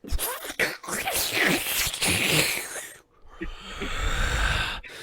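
A voice imitates wet squelching and slurping, a creature noisily devouring something, with snorts, breaths and smacking noises, close and fairly loud.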